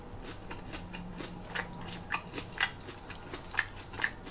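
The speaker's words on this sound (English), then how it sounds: "These wings are definitely crunchy." Crisp, crunchy bites into Bonchon Korean fried chicken wings, with several sharp crunches spaced apart over quiet chewing, close to the ear.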